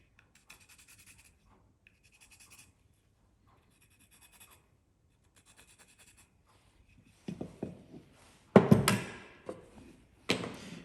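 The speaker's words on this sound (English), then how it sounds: "I'm going to shade in the waist to make sure I cut away the correct section." A pencil marks and shades the waist of a wooden tenon before cutting, heard as soft intermittent scribbling strokes, followed by louder knocks and handling of the workpiece near the end, close and without talk.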